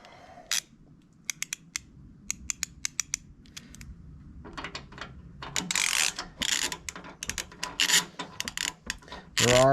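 A ratchet clicks in quick bursts while loosening T47 Torx factory bolts on a truck bumper, the sharp ratcheting strokes close and irregular, building into faster, louder clicking toward the end.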